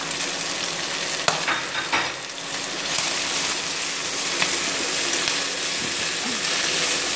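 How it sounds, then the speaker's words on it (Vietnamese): Pork belly stir-fried with lemongrass, chili and garlic, making a loud, continuous close sizzle with occasional sharp utensil taps as the pan is stirred. "Xào như này thì món thịt của chúng ta nó sẽ rất là thơm, mùi xả, mùi ớt, mùi tỏi."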